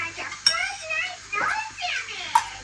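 Dishes and pots at home clink together in a few sharp, bright knocks spread across a couple of seconds, mixed in with voices talking.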